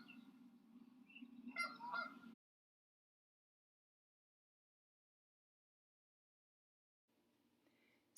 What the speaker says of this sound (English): Here are what geese sound like.